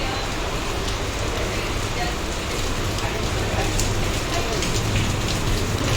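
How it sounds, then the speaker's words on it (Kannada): Heavy monsoon rain pours on and around a moving train crossing the Western Ghats near Shiradi Ghat, a dense, unbroken roar of falling water over a low rumble. "ಸೊ ನೋಡಿ ಎಷ್ಟು ಸಖತ್ತಾಗಿ ಮಳೆ ಬರ್ತಿದೆಯೋ."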